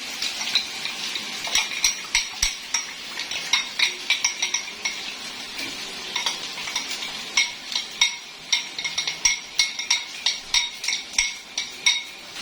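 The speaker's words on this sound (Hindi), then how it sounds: "इसको मैं अच्छे से फेंट लूंगी।" A spoon whisks cumin powder and garam masala into a spice mixture in a bowl for chicken white karahi. Quick, rhythmic clinks and scrapes come close and steady throughout, with no talking.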